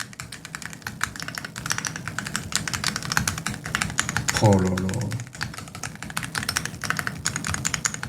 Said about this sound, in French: on va appuyer sur les touches pour voir il fait quel bruit